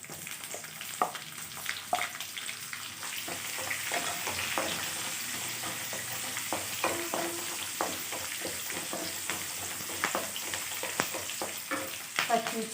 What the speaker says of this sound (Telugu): జీలకర్ర వేసుకొని వేగుతుండగానే